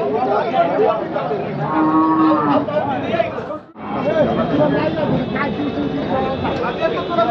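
Cattle moo loudly several times amid a busy crowd at a bullock market in Chakan, with people chattering and bargaining close by throughout.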